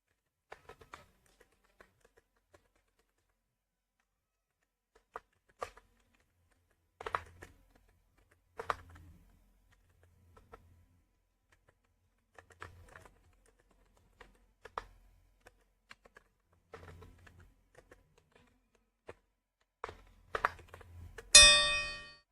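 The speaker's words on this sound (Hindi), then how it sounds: "यहाँ पर हमारी टाइपिंग जो है वो कंप्लीट हो गई है।" Keys clatter on a computer keyboard during a typing test practice, sparse single taps and short bursts spread across the span, ending in a dense rapid flurry; close and fairly quiet, with no talking.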